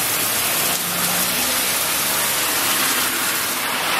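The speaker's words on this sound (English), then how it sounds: "It started raining really, really fast." Heavy rain pours down steadily in Okinawa, a dense, loud continuous hiss and splatter with no break, close by and without talk.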